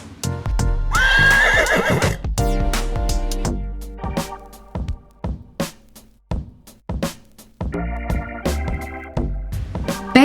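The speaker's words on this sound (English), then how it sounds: "Horse." A horse gives a loud, close whinny, followed by a run of sharp, evenly spaced hoof clip-clops and a short tonal passage near the end.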